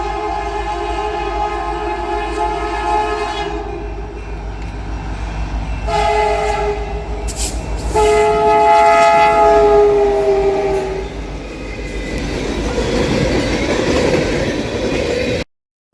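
CN freight train A48871, led by SD75I locomotive CN 5686, rolls past with a steady rumble and wheel clatter. Several long, loud horn blasts sound over it.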